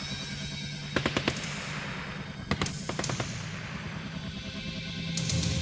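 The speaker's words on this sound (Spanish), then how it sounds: "A las 3:22 de la tarde, una terrible explosión sorprende a todos." Explosion effect for a documentary on the raid on the Japanese embassy in Lima. A series of sharp cracks and bangs like firecrackers rattles over a continuous noisy rumble, and the roar swells toward the end.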